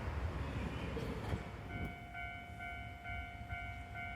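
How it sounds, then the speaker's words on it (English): Trams come and go near Tennoji Station in Osaka, heard from up high as a steady distant rumble of city traffic, with a faint sustained tonal hum and a few soft clicks over the background. "We really liked this view from up high of the trams coming and going."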